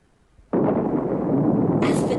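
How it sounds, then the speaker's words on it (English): A heavy bomb explosion sound effect bursts in after a brief quiet start, a loud, sustained roaring blast with a rumbling low end that fills the rest of the moment. "dropped a couple of bombs on Japan in the process"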